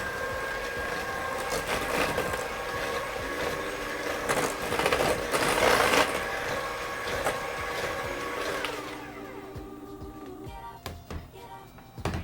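Vegan buttermilk being mixed into banana bread batter, a steady whirring churn that runs continuously, then drops to a quieter hum near the end.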